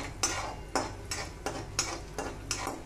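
Onions being stirred in a pan for momos chutney, a spoon scraping and tapping the metal in about seven regular strokes over a soft sizzle, close and fairly quiet.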